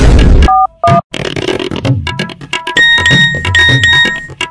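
A mobile phone's message notification tone, several short bright electronic beeps and chimes close and loud amid household clatter, no voices.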